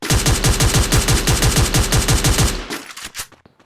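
Rapid automatic gunfire from a battle royale shooter game, a loud, evenly spaced burst of about a dozen shots that stops abruptly, followed by a few scattered fainter pops.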